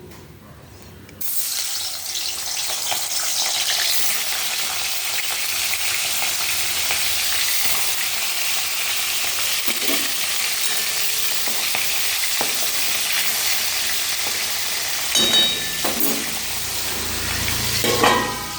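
Marinated fish heads in hot oil: after a quiet start, a loud, continuous sizzle with scattered spitting pops, sustained and close with sharper crackles near the end.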